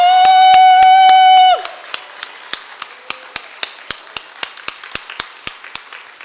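A church congregation claps in tight unison during a worship service. A steady, evenly spaced beat of sharp claps follows a brief sustained musical chord that cuts off.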